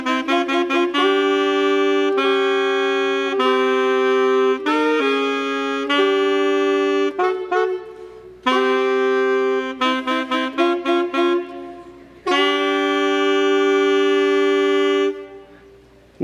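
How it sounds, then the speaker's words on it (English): Two reed players perform a score, sustained harmonized woodwind lines in phrases separated by brief breaths and gaps, clear and close with no talking. "Now if I add my Reed 1 player, this is Mark"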